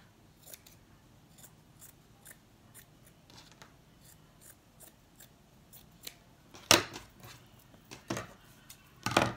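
Scissors snip along the edge of blanket fabric in a long series of crisp, close cuts, spaced irregularly and growing louder toward the end, with no talking.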